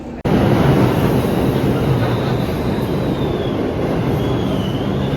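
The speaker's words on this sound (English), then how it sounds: "We are on the New York City subway, which is not too modern, very old cars and old system." An old New York City subway train rumbles loudly and continuously from inside the car, with a steady roar and faint squealing of wheels, after a brief quieter start.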